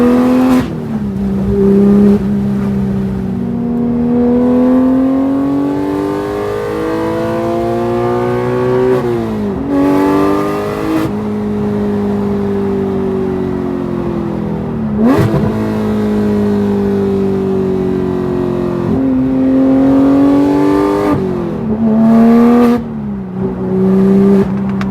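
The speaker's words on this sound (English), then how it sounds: "this thing screams like some V10s and V12s." Porsche GT3 flat six-cylinder engine with headers revving hard toward 9,000 RPM, a loud, close, sustained high-pitched wail that climbs repeatedly through the gears with brief dips at each shift.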